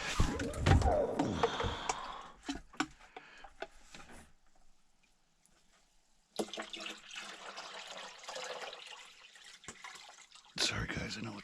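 Cold melted snow water is poured at a remote wilderness camp, in splashing, gurgling bursts separated by a near-silent pause, with a brief voice heard at the start.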